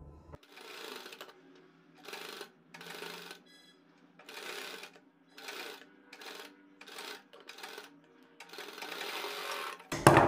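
A sewing machine stitches a fabric strip onto a neckline design, running in short rhythmic bursts of rapid whirring with brief pauses between them. The sound is close and fairly quiet, with no talking over it.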